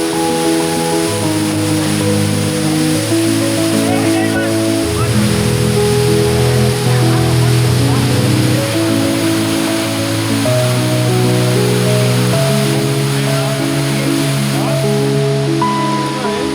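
Water plunging more than 80 metres at the source of Río Mundo, a loud, steady roaring rush heard close with faint music over it.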